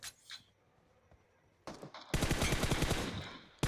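Rapid automatic gunfire in PUBG Mobile on the Livik map while shooting bots, a dense loud burst of fast repeated shots after a few scattered quieter cracks and a brief lull.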